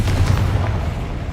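A Confringo blasting spell explodes in Hogwarts Legacy, a loud, deep booming blast with a heavy rumbling low end that fills the short moment and slowly fades.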